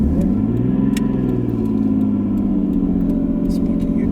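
A 1991 Nissan Skyline R32 GTS-T engine drones steadily from inside the car while driving, with a brief rise in pitch as it pulls along, a constant mid-range rumble throughout.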